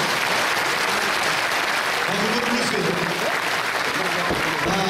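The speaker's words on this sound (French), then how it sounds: "Applaudissements." Audience applause at a rugby league team presentation, a dense, loud, steady roar of clapping that fills the whole stretch.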